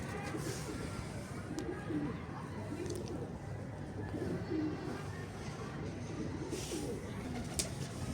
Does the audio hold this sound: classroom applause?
no